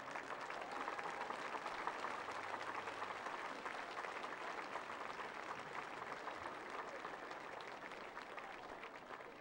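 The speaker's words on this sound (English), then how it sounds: "please join me in a round of applause" A crowd applauds at a 2009 high school football game between Mount Carmel Area and Shamokin, a faint, distant wash of clapping that holds steady for about nine seconds.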